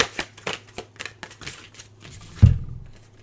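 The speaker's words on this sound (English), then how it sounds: "I'm just pulling some oracle cards for you now." Oracle cards being shuffled and pulled from the deck, close and crisp, with a quick run of riffling flicks followed by a louder thump as cards are set down.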